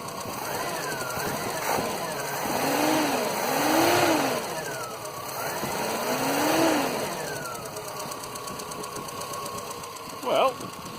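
A Dacia car engine idling after a carburettor swap, with the carburettor top off. It runs steadily, rising and falling in revs with a faint knock, while someone talks over it and a sharp tap sounds near the end.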